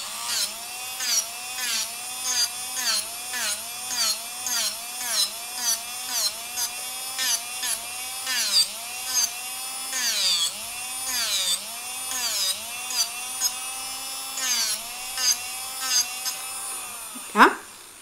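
An electric nail file sanding off gel nail material, a steady whirring motor whose pitch dips and rises in regular strokes as it grinds, close and continuous for most of the clip, ending with a sharp scrape.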